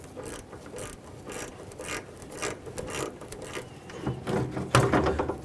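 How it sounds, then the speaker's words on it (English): A ratchet with an E7 inverted Torx socket backs out a mounting stud on a 2006-2012 Ford Fusion AC condenser, giving a steady run of close, rapid pawl clicks that grows louder toward the end. "To remove it, you want to use an E7 inverted Torx head socket."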